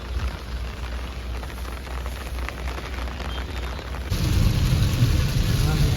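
Steady heavy rain with low rumbling, like thunder, during a risky road journey from Bhavnagar to Surat. The broadband wash runs throughout and grows louder and denser near the end, with no speech.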